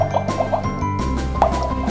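Electronic bubbling and gurgling of boiling water from a Doris MJL-99B children's toy kitchen, a short looping synthetic effect with repeated bubble blips over a steady hum, fairly close and alone.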